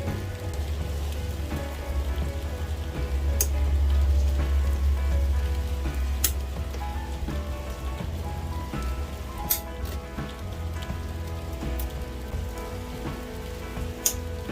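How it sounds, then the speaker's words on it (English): Steady rain patters on a boat, with occasional louder drips tapping through the constant wash. "It's really raining out there. Doesn't want to let up."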